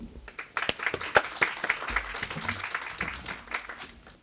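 Audience at a constitutional congress inauguration clapping, a short scattered round of applause with distinct individual claps, moderately close and fading after a few seconds.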